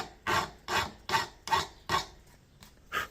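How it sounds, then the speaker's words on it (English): A hand file flattens metal pins on a knife handle in steady rasping strokes, six in about three seconds, close and fairly faint with no talk. "the first thing I'm going to do is take a file and just flatten the pins"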